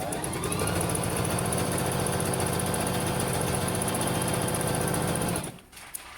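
A Juki HZL-355Z sewing machine running a wide zigzag stitch, a fast steady mechanical chatter for over five seconds before it stops abruptly, leaving quiet with a small click.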